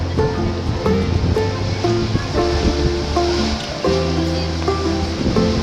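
Ocean surf washes in a continuous, fairly loud roar of breaking waves, with steady low tonal hum and faint background voices mixed underneath.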